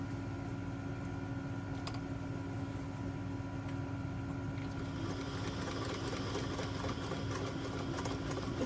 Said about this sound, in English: I'm going to just stitch as close as I can to this raw edge with this zigzag stitch